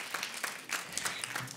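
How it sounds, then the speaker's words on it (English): A brief, fairly faint round of applause comes from the audience at a Rewiring Capitalism talk in a performing arts center theater. "give yourselves a round of applause so we know who's here from outside"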